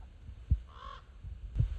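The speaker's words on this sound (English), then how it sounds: "at 4:30 a.m., the crows found me, and boy, were they upset" A single crow caws once at dawn in a desert canyon, a short harsh call at middling distance over quiet wind and low thumps, with nobody talking.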